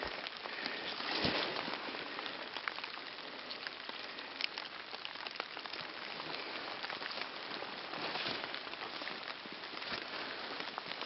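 Steady rain patters and hisses across a plowed field in the Ural region during a search for stones, a dense even wash of drops with no voices.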